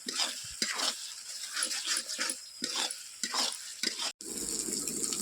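Spice masala with salt is stirred and fried for a rohu fish curry, close rhythmic scraping strokes over a bubbling sizzle, ending in a brief cut and a steadier frying hiss.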